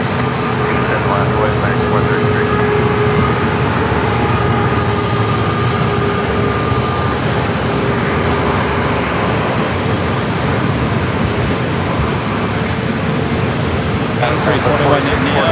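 Airbus A321neo jet airliner rolling down runway 27 at San Diego, a loud sustained engine roar with tonal whine layered over broadband rumble, steady across the whole stretch.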